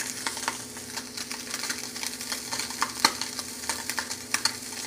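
Spam sizzles steadily in a hot pan with no butter, with crackling pops and spits over a constant frying hiss, heard up close.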